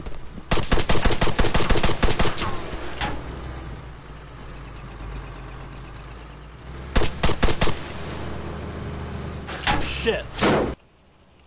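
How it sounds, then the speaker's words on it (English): Loud rapid gunshots from the military video game ARMA 3, a dense volley at first, then a short burst later and a final cluster, with quieter background between. "I shot at the guy at the rock below you, Havoc."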